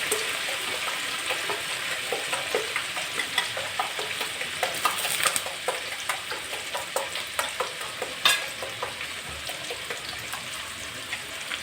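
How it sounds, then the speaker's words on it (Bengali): Food fries in a pan with a bright, crackling sizzle, and repeated scraping clinks of stirring come at a steady rhythm, close and fairly loud. "ভাজবো এখন এটা।"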